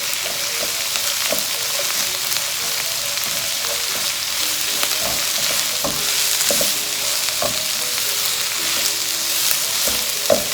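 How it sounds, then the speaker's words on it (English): Ginger sautes over high heat in a hot pan for Kung Pao chicken, giving a dense, continuous sizzle with scattered crackles and pops, close and without talk. "we're just going to saute it for some time on high fire"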